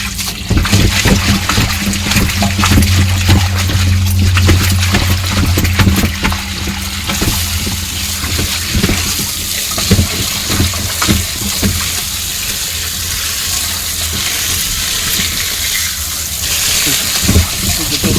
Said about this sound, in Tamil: இந்த மாதிரி அலசணும் நிறையா தண்ணி நிறைய விட்டு அலசணும்